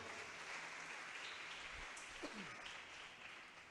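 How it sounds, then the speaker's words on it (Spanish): Church congregation applauding during a Spanish-language sermon, a faint, steady clapping wash heard from a distance, with a brief low voice sliding in midway. "vamos a aplaudirle fuertemente al Señor"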